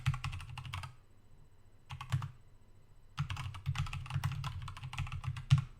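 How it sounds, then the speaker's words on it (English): Keys clatter on a computer keyboard in dense bursts of rapid typing, broken by two short pauses, close and fairly quiet with no speech. "don't know why I'm typing all these out"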